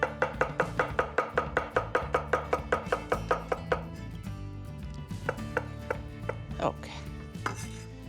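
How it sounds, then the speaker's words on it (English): A knife cuts radicchio on a board for a radicchio and orange salad: a run of fast, evenly spaced chops up close, then slower, scattered cuts, with one brief spoken word. "We can cut the rest with a knife."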